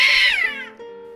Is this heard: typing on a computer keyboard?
no